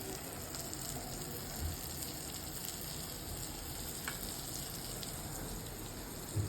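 A cube of butter melts in a pan before masala noodles are cooked, giving a faint, steady sizzle and crackle throughout with a couple of small knocks and no voices.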